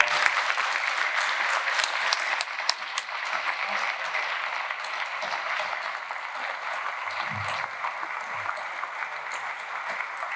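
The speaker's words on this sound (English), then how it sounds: "Can we give him another round of applause?" An audience at a Q&A panel discussion applauds steadily for about ten seconds, a dense, sustained wash of clapping from a sizable crowd.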